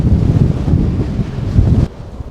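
Strong wind at a beach in Bude, Cornwall buffets and rumbles loudly across the microphone, gusting steadily, then cuts off abruptly near the end, leaving quieter breezy noise.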